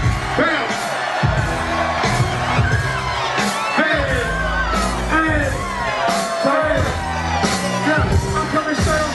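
Concert crowd shouting and cheering back at a rapper, a loud, dense wall of yells and whoops over pounding music with a heavy beat throughout.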